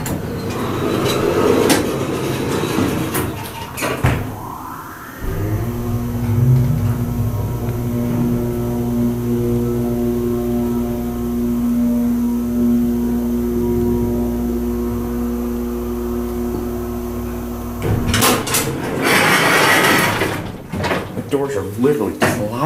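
A dry-powered hydraulic elevator motor starts with a clunk and runs as a steady, loud mechanical hum with a droning pitch for about twelve seconds, then shuts off; people talk before and after it.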